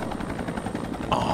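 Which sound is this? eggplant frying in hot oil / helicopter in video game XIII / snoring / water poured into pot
helicopter in video game XIII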